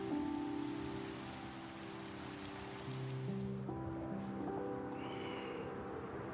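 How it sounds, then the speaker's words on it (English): Rain falls in a video game as a steady, soft wash of rainfall over a sustained tonal musical background, faint and continuous throughout with no talk. "Guys, it's raining."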